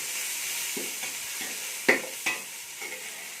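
Mint and coriander leaves sautéing in oil for mushroom biryani, a close, even sizzle with soft scraping strokes of a spoon and a couple of sharp metallic taps against the pot.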